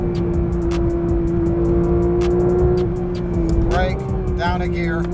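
A Porsche GT3 RS engine runs at high revs and pulls hard under acceleration, a loud, steady drone heard from the cabin, then shifting and rising in pitch near the end.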